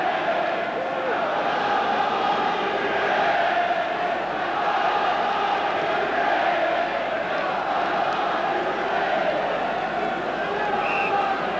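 A football stadium crowd at Southampton v Liverpool booing, a sustained low roar of massed voices with a commentator talking over it throughout.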